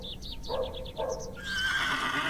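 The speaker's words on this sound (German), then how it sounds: "Oh, hier ist ein Pferd." A horse in the video game The Excavation of Hob's Barrow gives a loud, close whinny of quick rising and falling squeals, then a snort and a breathy rumble over a steady background ambience.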